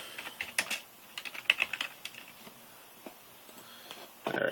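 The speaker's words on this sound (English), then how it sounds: "apologize for typing" Quiet, irregular typing on a computer keyboard at close range, bursts of clicking keystrokes with short pauses between, and a brief rustle near the end.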